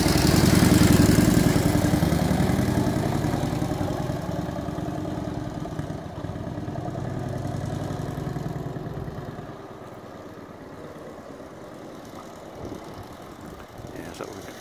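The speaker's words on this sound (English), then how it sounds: "A high gear motorbike." A 1925 Royal Enfield 8hp 976cc motorbike engine runs with a loud, low throb that fades gradually as the bike moves away. People talk over it.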